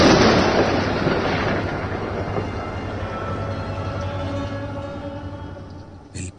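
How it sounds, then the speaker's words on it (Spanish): A powerful thunderclap opens loud and booming, then rolls into a long, deep rumble that slowly fades, used as a sound effect in a spoken mystery drama. "El potente estruendo de un trueno sacudió la casa"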